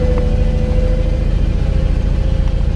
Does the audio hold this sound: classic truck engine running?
yes